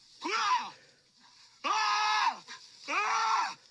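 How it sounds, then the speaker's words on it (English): A man screams at a bear in three long, loud, strained bursts separated by short silences, each cry rising and then falling off. "He's basically just screaming at a bear at that point."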